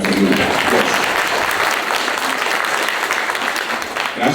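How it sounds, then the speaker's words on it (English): An audience at a Black History Month family festival applauds steadily for about four seconds, a dense, even wash of clapping that holds at full strength throughout with faint crowd voices mixed in. "round of applause, absolutely"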